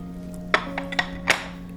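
An offset spatula scrapes and knocks against an ice cream mold for a Julia Child ice cream mountain, giving a few sharp metallic clinks and taps spread out over a couple of seconds over a steady background hum.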